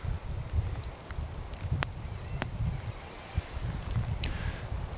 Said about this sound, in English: Bit windy today, as you can hear probably.